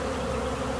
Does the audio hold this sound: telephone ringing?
no